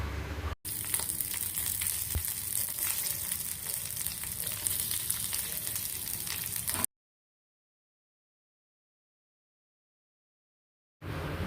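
Green chili and ginger fry in hot oil with a steady, loud sizzle that fills several seconds, then cuts to silence before the sizzling briefly returns.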